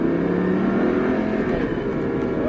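A high-performance car, one of an Audi, Lamborghini or Mustang, accelerates hard on a circuit during a driving course at Folembray, its engine a loud, steady, close drone building continuously with no speech over it.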